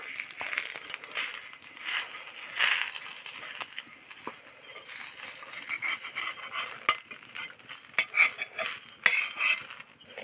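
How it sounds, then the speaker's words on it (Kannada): Green chillies roasting dry in a pan for a hibiscus flower rasam, stirred with a utensil that scrapes and clinks against the metal over a faint crackle, steady and close, with no talking. "ಈಗ ಚೆನ್ನಾಗಿ ಗರಿ ಗರಿಯಾಗಿ ಬರೋ ಥರ ಹುರ್ಕೊಳ್ಳಿ"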